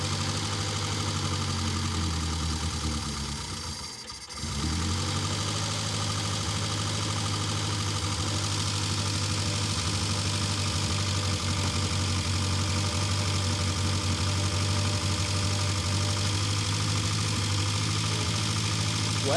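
A 1972 Austin Van engine, run after 30 years with an untouched, dirty carburettor, idles steadily close by with a rough, knocking low rumble that dips briefly near the start and then holds even.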